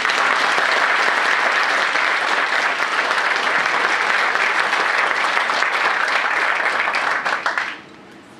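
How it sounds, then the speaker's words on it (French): Dense, loud audience applause sustained for several seconds before quickly dying away to quiet at the end. "je pense qu'on pourrait déjà vous applaudir"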